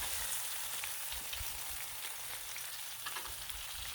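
Bacon strips sizzle steadily on a Blackstone flat-top griddle, a dense continuous crackle with occasional louder pops and faint scraping, close and even throughout with no talk.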